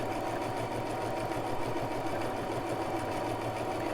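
A Brother LX3817 sewing machine stitches utility stitches at a medium pace, giving a continuous rapid mechanical whir and rhythmic clatter that stays steady throughout.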